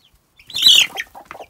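A hen gives a short, close cluck-like call, one brief squawk with a trailing softer note, among farm chickens.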